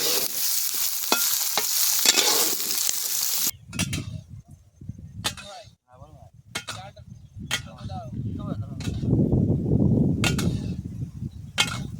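Food frying in a pan at an outdoor New Year picnic, with a loud sizzling burst at first, then quieter sizzling broken by sharp scraping and clanking stirring strokes.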